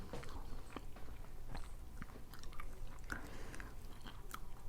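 Close, quiet chewing of seafood miang, with soft crunches and bites in an irregular rhythm and no voices.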